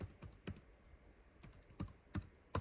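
Keys on a computer keyboard are tapped as a card number is entered: several quiet, close clicks spaced irregularly.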